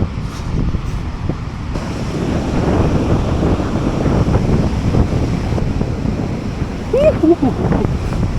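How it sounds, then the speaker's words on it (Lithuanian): Sea waves wash in under strong wind while microphone wind noise buffets steadily, a continuous loud rushing roar heard near the shore from an electric scooter ride, with a faint brief voice near the end. "Jūra!"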